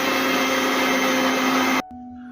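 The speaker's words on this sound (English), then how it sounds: "we are going to grind it in this mixer to the consistency that we use to make idli" An electric mixer grinder whirs loudly and steadily as it grinds millets into idli-consistency batter, then abruptly cuts off to a faint lingering hum.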